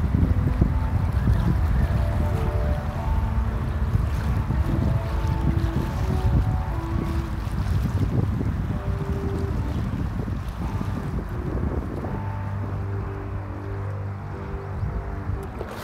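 Wind buffets the microphone while someone floats on a tube down the Blackfoot River near Missoula, a continuous rough rushing that runs the whole time, with faint tonal sounds mixed underneath.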